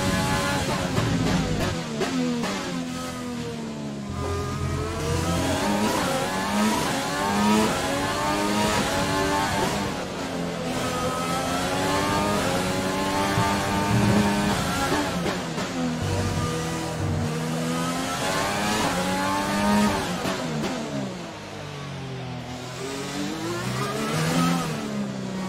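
F1 2020 race cars lapping the Monaco street circuit: high-revving engines whine loudly as several cars sweep past in succession, pitch rising and falling with each pass and gear shift, over a constant engine drone.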